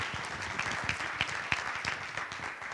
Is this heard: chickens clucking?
no